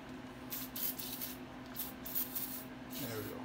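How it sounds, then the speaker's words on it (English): Aerosol can spraying nut and bolt loosener while working on a 1959 MotoMower Shark: several short bursts of hissing spray, separated by brief pauses, fairly close. "Spraying brake clean on there."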